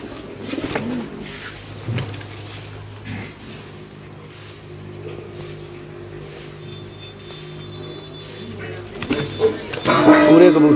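Red-eyed pigeons coo softly nearby in a low, repeated rumble, with background chatter and some traffic noise around them, near the Khemkaran border.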